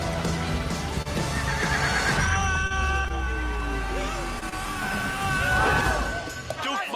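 A horse whinnies loudly and at length, its drawn-out, wavering neigh rising and falling over hoof clatter and a few knocks, close and dominant throughout.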